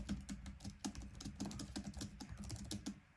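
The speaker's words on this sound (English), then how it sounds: "Listen as I type here." Rapid, soft typing on a thin, quiet SABLUTE wireless backlit keyboard, a steady patter of light key clicks up close with no voices.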